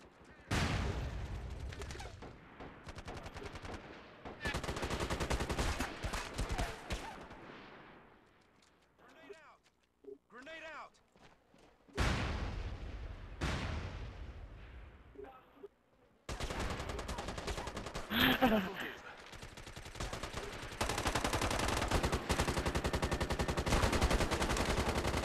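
Heavy automatic gunfire and explosions from a PS3 MAG battle defending Darien in a Network Sabotage match fire in long, dense bursts. The shooting breaks off briefly in the middle, where quieter voices are heard, and then resumes loudly.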